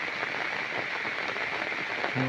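Steady rain falls over rice fields, a continuous even hiss of drops on surfaces holding at the same level throughout, with no voices.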